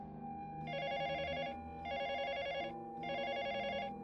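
A telephone rings in a hotel room in Haeundae, Busan: three evenly spaced electronic ring bursts, each roughly a second long with short gaps between, clear and fairly close, set over a low murmuring background.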